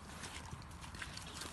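Horse hooves clip-clopping at a walk during a French groundwork exercise in which the horse steps backward through an L-shaped course of poles and cones, a faint, steady patter under broad background noise with no speech.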